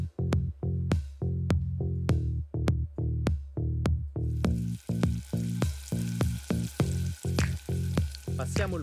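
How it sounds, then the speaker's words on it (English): Baby octopus sautés in a pan as the skin caramelizes, giving loud, close sizzling in regular pulsing bursts, like repeated tossing or stirring, with the sizzle thickening in the second half. "We'll sauté the octopus in a pan until the skin is caramelized."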